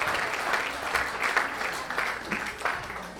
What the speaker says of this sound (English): A round of applause for our volunteers tonight